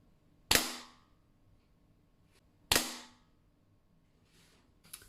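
Two loud, sharp shots from a Diana LP8 Magnum air pistol, about two seconds apart, each with a short ringing decay, followed by fainter clicks of handling in a quiet space.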